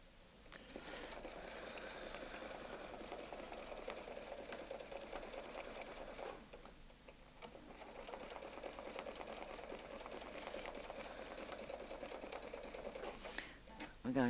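A Husqvarna Designer II sewing machine stitches with a Westalee ruler foot, a steady fast mechanical hum and needle patter running continuously, pausing briefly midway before resuming, quiet and close.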